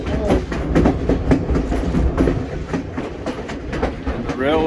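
A passenger train rumbles along the Skagway, Alaska railway with steady wheel-on-rail rumble and rhythmic clatter, close and continuous, with a faint voice mixed in.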